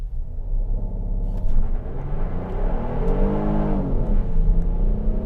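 A 2022 Kia Carnival SX Prestige minivan launches hard from a brake-torque standstill. The engine rumbles loudly and close, its pitch rising steadily through the pull as the revs build.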